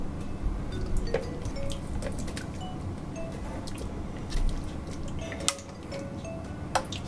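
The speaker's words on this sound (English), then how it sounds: "I'm just going to put this through the strainer now, so we can get all the pulp and everything out." Cooked plum and greengage pulp is pushed through a kitchen strainer, giving soft wet squishing over a steady low rumble, punctuated by a few sharp clicks and taps of utensil on metal.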